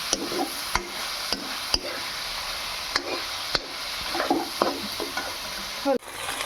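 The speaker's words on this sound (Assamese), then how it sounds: "মছলাখিনি মাংসখিনিৰ লগত মিহলি হ'বলৈ আকৌ অকণমান সময় লৰাই ভাজি ল'লোঁ।" Broiler chicken with spices and red chili powder is stir-fried in a pan, giving a constant sizzle broken by sharp, irregular scraping strokes of the spatula, close and clear.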